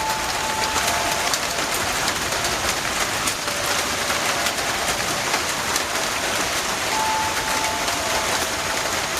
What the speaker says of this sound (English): Oh, that is rain.